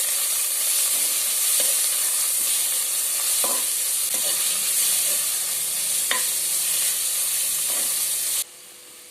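Boiled, grated beetroot sautéing in a pan, a steady close sizzle broken by occasional scraping strokes of a spatula, ending abruptly near the close.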